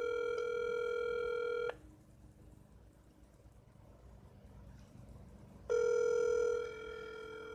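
An outgoing telephone call rings twice: a steady electronic ringback tone, a long quiet gap, then a second ring, clear and fairly near.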